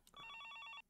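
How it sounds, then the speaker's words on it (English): A telephone rings in a video game, one sustained electronic trill with steady pulsing tones lasting most of a second, loud and clear with no talk over it. "The sound of the phone made me jump."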